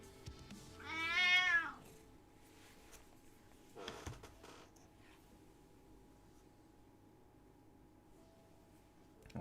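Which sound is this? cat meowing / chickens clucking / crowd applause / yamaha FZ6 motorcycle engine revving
cat meowing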